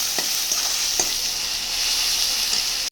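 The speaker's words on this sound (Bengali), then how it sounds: "এর মধ্যে দিয়ে দিল দারচিনি সাদা এলাচ আদা রসুন দিয়ে এটাকে এবার সুন্দর করে কষিয়ে নিচ্ছে আমার মা" Onion frying with cinnamon, white cardamom, ginger and garlic while being stirred for a village-style chicken curry, a steady close hiss of sizzling oil with a few faint scrapes of stirring and no voices.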